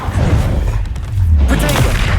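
An Incendio fire spell is cast in Hogwarts Legacy, producing a dense, rumbling fiery burst that swells and roars continuously for a couple of seconds, loud and close.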